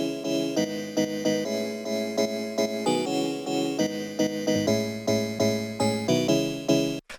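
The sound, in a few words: live bell sample layer in hard house track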